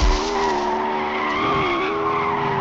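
A car drifts and skids in the Extreme Car Driving Simulator video game, its tires squealing continuously with a steady, wavering engine tone, loud and close throughout with no talk.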